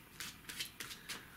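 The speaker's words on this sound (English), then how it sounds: "at least once you or your spectator have to shuffle the pack with the classic overhand shuffle" A pack of playing cards is shuffled by hand in classic overhand shuffles, with four quick, faint riffling bursts evenly spaced in a quiet room and no talking.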